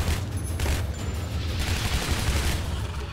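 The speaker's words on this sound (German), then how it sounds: "ich sollte wirklich aufhören zu schießen" Dense, continuous gunfire in the shooter Shadow Warrior, a loud and close rattling barrage with a heavy low rumble that keeps up for the whole stretch without a pause.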